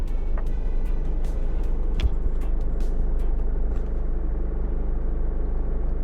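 A car driving along a road between Christchurch and Queenstown, a steady heavy low rumble of engine and tyres throughout with faint higher rattles and knocks over it, no talk.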